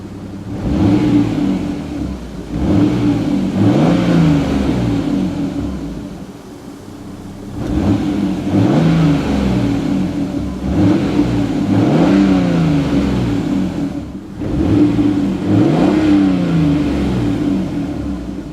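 A 1998 Toyota Supra Turbo with a six-speed manual revs its engine through the exhaust in repeated deep, throaty surges, each rise and fall spaced a few seconds apart, loud and close with no talk.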